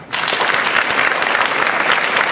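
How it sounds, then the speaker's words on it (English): An audience at a Haiti independence celebration breaks into applause welcoming a speaker, a full, steady round of many hands clapping close and loud throughout. "join me in welcoming him with a round of applause"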